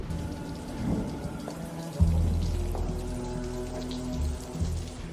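Rain pours in a night alley with a low rumble like thunder, a steady wash of drops close by and moderately loud, with no voices.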